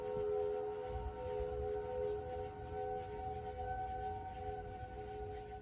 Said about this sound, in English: Those are the storm sirens in downtown Champaign around 9:45 last night